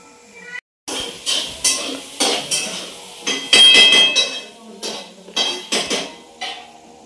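Jowar bhakri, a sorghum flatbread, being made in a home kitchen: a series of sharp, close pats, clinks and clatters in an uneven rhythm, with no one speaking.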